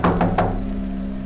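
Three heavy knocks thud against a wooden door in quick succession, loud and close, followed by a lingering low hum in a spooky ghost-story setting.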